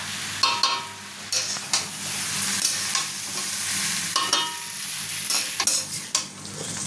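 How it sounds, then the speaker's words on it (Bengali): Muri ghonto mixture sautéed in a pan, with a continuous loud sizzle broken by repeated sharp spatula scrapes and stirring strokes, close and without speech. "এবার এটা বেশ কিছুক্ষণ একটু সময় নিয়ে ভালো করে কষিয়ে নেব"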